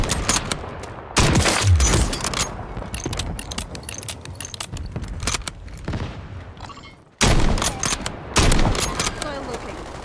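Gunfire in the battle royale game Warzone 3, with rapid bursts and sharp cracks that start abruptly, thin into scattered shots with rustling, then return in loud bursts after a sudden silent gap.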